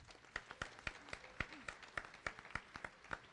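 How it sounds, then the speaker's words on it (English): Faint, sparse clapping from a small audience at a round table discussion, individual claps landing in a fairly regular rhythm for a few seconds. "Can we give this guy a round of applause?"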